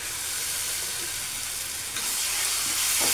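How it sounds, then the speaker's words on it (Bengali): Spices with turmeric and cashew paste being stirred in a hot pan give a steady close sizzle and hiss, with soft scraping underneath and a brighter burst of frying near the end. "কাজু বাটা দিয়ে একটু নাড়তে হবে।"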